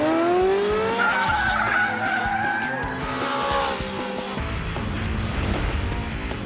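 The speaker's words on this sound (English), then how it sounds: "Even Kazunori in the awesome Mitsubishi Evo 8 with permanent four-wheel drive finds a slalom can catch him out." A Mitsubishi Evo 8 with permanent four-wheel drive skids through a slalom, its tires squealing loudly and sweeping up and down in pitch over a steady engine roar, then fading into a rougher sliding hiss.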